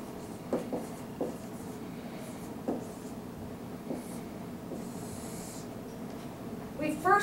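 Pen scratching on paper while working a grams-to-grams stoichiometry problem, a few soft intermittent strokes and rubs, quiet and close over low room noise.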